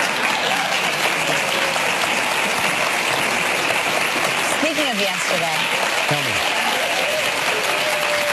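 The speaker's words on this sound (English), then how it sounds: "That was such a weird extended applause for no reason." A studio audience on a live morning talk show breaks into long, sustained applause, loud and dense throughout, with voices speaking over it and some whooping near the middle.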